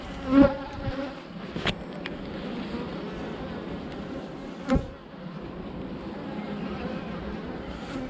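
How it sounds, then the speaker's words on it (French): Honeybees swirl in a dense cloud around their hives, a steady outdoor buzzing hum that fills the scene, broken by a couple of sharp close passes of single bees near the microphone. "Ouais, un beau nuage d'abeilles."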